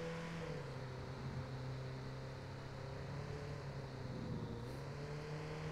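A car in the video game Watch Dogs 2 drives along a city bus lane, its engine a steady low drone with slight shifts in pitch, continuous throughout.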